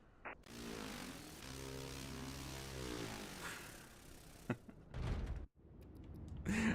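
A propeller aircraft departing in Microsoft Flight Simulator 2024, its steady droning engine tone shifting in pitch as it runs up, followed by a few brief clunks and clicks.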